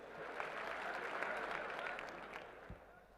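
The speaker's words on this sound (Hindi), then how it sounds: "जोरदार तालियों से उनका स्वागत करें।" A rally crowd claps to welcome minister Nitin Gadkari at a BJP rally in Dausa, a steady wash of applause heard from a distance at low level, with a soft thump near the end.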